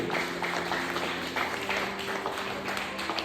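Congregation applauding at an evangelical church service, a steady wash of many hands clapping throughout, moderately loud and fairly close, with sustained tones beneath.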